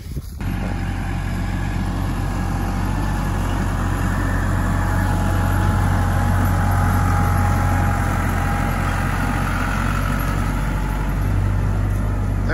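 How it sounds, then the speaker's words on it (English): A sap collection vehicle on a maple farm with a sugar shack rumbles in a steady, loud, low engine drone, nearby and continuous, with no clear rise or fall as it passes. "He's driving around through all the bushes here at Golden Moment Farms, hauling sap back to the big sugar shack"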